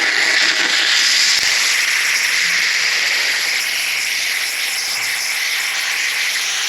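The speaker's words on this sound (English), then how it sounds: "And then we just steam it to warm it up." A handheld steamer hisses steadily and loudly up close, warming the window tint film on a Land Rover Discovery for removal, a continuous broadband rush with no talk.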